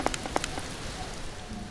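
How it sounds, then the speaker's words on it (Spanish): Rain falls in the Mr. Prepper survival game as a steady hiss of drops on a surface. A few sharp ticks and taps sit on top near the start, and no one talks. "Vale, está lloviendo."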